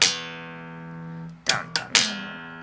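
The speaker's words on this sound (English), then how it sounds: "if you want to practice that intro to play each octave, slap pop" Slap bass octave intro played in a slap and pop rhythm: a ringing low note decays, then three sharp percussive slaps and pops follow in quick succession, loud and alone.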